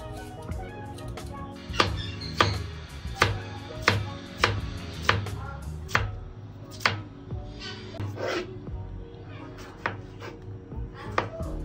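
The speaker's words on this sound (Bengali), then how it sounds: "শশাটা কেটে তারপরে টমেটোটা কেটে সবকিছু রেডি করে নিচ্ছি" A knife chops cucumber and tomato for a salad on a board, with a steady run of crisp, close strikes that turns into quicker, scattered taps near the end. No one speaks.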